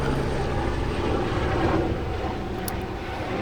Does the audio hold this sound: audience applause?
no